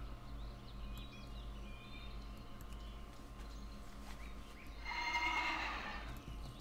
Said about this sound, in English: The Headless Horseman's horse.